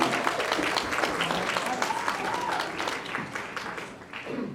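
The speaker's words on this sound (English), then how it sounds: "So if we can do a big round of applause for Betsy" Audience applause at a community fall-prevention event, a dense steady wash of many hands clapping that carries on for several seconds before thinning slightly near the end, with faint voices underneath.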